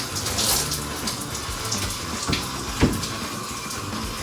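Tap water runs steadily while hair is being washed, a close, continuous splashing stream broken by a few brief knocks and thuds.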